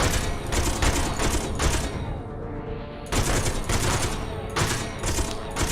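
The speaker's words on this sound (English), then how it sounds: "Let's just grab the chain guns because I don't want to blow it up completely" Chain guns in Space Engineers firing at a ship's thrusters: dense, loud rapid-fire bursts, a sustained volley, a short pause, then another long burst and a final short one, with no talking.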